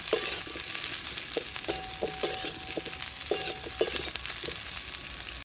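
Potato and cauliflower fry in a pan with a steady close sizzle, punctuated by repeated scraping stirs and light clinks of the utensil against the pan.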